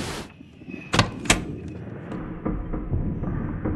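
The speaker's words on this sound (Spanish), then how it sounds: "Ah, tengo que abrir la puerta." A door opening in the horror video game Among the Sleep, with two sharp thumping knocks near the start, then softer clunks and a low rumble of room tone.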